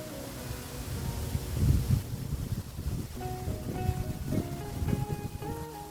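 Wind gusting across open roadside land with large trees beside a new four-lane highway in rural Prachinburi, Thailand, a steady soft rushing roar that swells and fades, fairly quiet with no talking.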